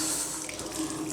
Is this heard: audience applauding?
no